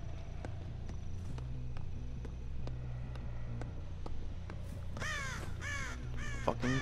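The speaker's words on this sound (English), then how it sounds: "crow." A crow in Dead by Daylight gives a quick run of several harsh caws near the end, rising over a low game ambience and scattered clicking footsteps, with no talking.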